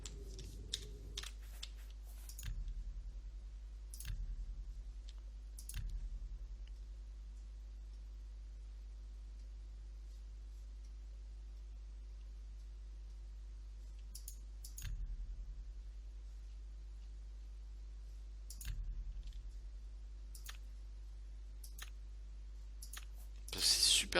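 Sparse, faint computer mouse clicks during lockpicking in the game Oblivion, isolated taps spaced several seconds apart over a low steady hum.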